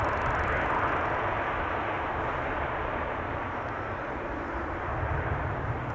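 A KLM airliner touching down at Amsterdam Schiphol deploys thrust reversers, producing a steady, broad jet roar heard at a moderate distance that holds evenly throughout.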